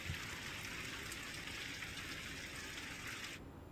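Steady rain falls in Mussoorie as a dense, even hiss of drops, continuous and moderately loud, cutting off abruptly at the end with no voices.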